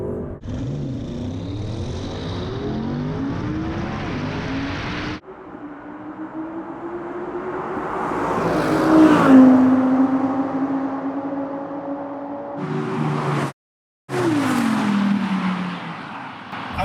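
An Audi RS6 and an Audi RS7 launch from a standing start in a drag race, engines roaring and building as the cars pull away, loud and close, with one brief cut to silence near the end.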